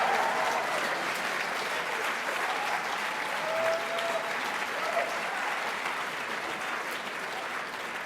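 Sustained applause from a large audience at a jazz saxophone competition, a dense, even roar of clapping filling the hall with no break, a few faint voices mixed underneath.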